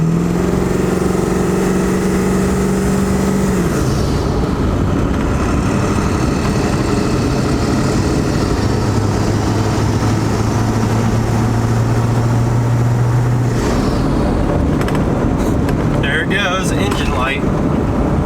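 A Ford 7.3L Powerstroke diesel truck engine drones loudly and continuously from inside the moving truck, its pitch stepping down and then climbing as it is given more throttle, with talk over it.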